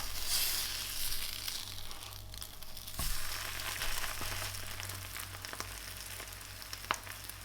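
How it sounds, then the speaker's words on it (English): A Monte Cristo sandwich with cheese and egg fries in a pan, giving a quiet, continuous sizzle with a few faint crinkles and a sharper tap partway through. "now we just need to fry that for several minutes on each side until the cheese is nicely melted, the eggs cooked"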